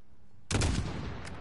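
A single sharp rifle shot in the Modern Warfare campaign, sudden and loud after near silence, followed by a short ringing tail and echo.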